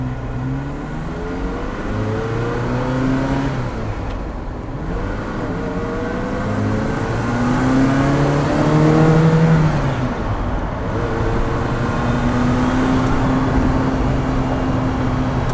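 A 1985 Ferrari 288 GTO engine revving while driving, heard from inside the cabin; the engine note climbs repeatedly through gears with brief dips between shifts, loud and close.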